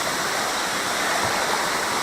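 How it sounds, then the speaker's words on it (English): Cascading waterfall on the Green River in Kentucky, a loud, close, continuous rushing roar of falling water with no break. "Did you ever think a waterfall like that was in Kentucky?"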